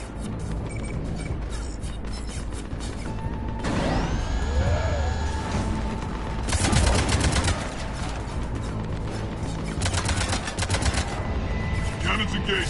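Heavy ship cannons in Mass Effect Legendary Edition fire in a dense, loud sequence of booming blasts and mechanical clatter. Sweeping electronic tones and rapid bursts ring out over a busy, continuous din.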